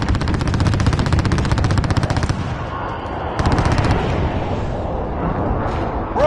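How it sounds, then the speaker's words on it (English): Heavy game gunfire of a video-game precision airstrike, with rapid machine-gun-like bursts and booming impacts. The sound is loud and sustained, drops briefly mid-way, then resumes, with crackling debris at the end. "Precision airstrike, take cover!"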